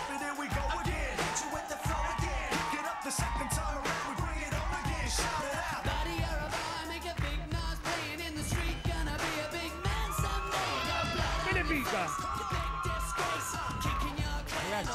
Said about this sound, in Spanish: Fuerte el aplauso para Daniel Ponce.